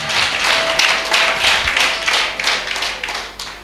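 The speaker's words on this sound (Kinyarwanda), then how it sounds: "Komera Imana amashyi nanone menshi cyane." A church congregation bursts into sustained applause, a dense wash of many hands clapping close and loud that swells and ebbs for several seconds with no talking over it.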